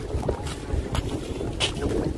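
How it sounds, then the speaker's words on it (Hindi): Water waves at Gangrel Dam in Dhamtari, Chhattisgarh, wash and slosh steadily with gusts of wind buffeting the microphone and no talking. "पानी की जो लहरें हैं वाह एक नंबर"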